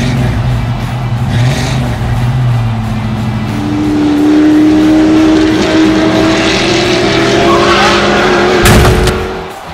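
Hot Wheels diecast cars race down a track, a Ford GT40 among them, giving a continuous loud rolling whir with rising whining tones, then a sharp clatter near the end as a car wipes out.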